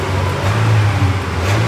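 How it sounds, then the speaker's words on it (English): A 2012 Honda City with a stage 1 tuned exhaust revs steadily, a loud, close, continuous engine drone that holds for the whole stretch without any talk. "now we'll rev the exhaust"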